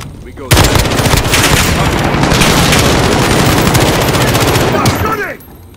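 Rapid automatic gunfire from Call of Duty: Modern Warfare (2019) multiplayer fills the clip, loud and sustained for about five seconds with dense bursts, then cuts off abruptly near the end.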